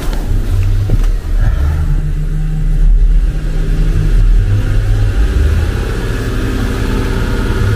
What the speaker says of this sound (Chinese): 我加速让它着个十分钟